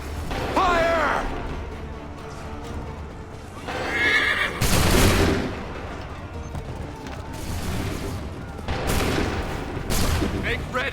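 Musket volleys ring out on command across an Assassin's Creed 3 battlefield, several loud broadband cracks spaced seconds apart, with horses whinnying and gear clattering in between and faint voices in the background.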